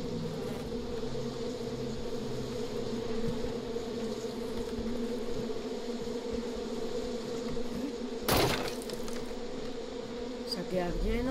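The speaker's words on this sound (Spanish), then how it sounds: "Avispas." Swarm of wasps in the Far Cry 5 open-world shooter, a steady droning buzz that holds for the whole stretch, with a sharp burst of noise near the end and no talk.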